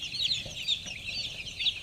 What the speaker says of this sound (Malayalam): ഇവിടെ കോഴികളുണ്ട്.